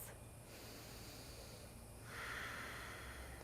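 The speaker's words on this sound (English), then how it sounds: "3 deep breaths" Slow, deep breaths drawn in and let out through the nose during a yoga tree pose, faint and close in a quiet room, a couple of soft airy inhales and exhales with no talking.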